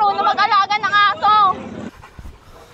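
A dog, an American Bully or Aspin, whimpers and whines loudly up close in rising and falling cries for about a second and a half, then goes quiet with faint background noise.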